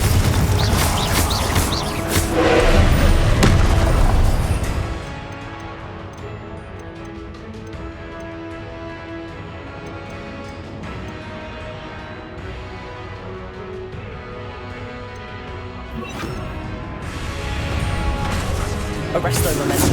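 Confringo blasting spells bursting in Hogwarts Legacy during combat in Charles Rookwood's Keeper trial, loud dense crashing impacts in the opening seconds and again near the end, with quieter spell and ambient sound in between and a voice calling out spells.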